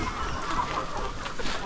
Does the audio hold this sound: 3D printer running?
no